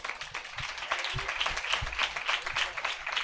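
Audience at a church convention clapping in applause for a singer, a dense steady patter of many hands lasting throughout, fairly close and even in loudness.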